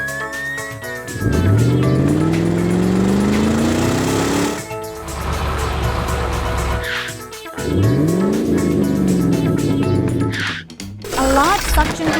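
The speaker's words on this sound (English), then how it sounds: "A car approaches and skids on the oil." An animated car engine revs and roars as the car skids on spilled oil, with rising engine sweeps, squealing tires and clattering, loud and busy, and a short lull partway through.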